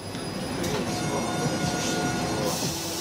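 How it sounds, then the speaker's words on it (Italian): A modern passenger train running, a loud steady rumble of wheels on rails with a hiss and faint squealing tones throughout, heard from on board. "Ovviamente il treno non è quello che prendevo, perché oggi sono molto più moderni"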